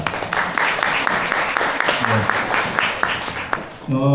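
Audience applause during a commemorative lecture event, a steady wash of clapping at moderate level, with a voice breaking in briefly near the end.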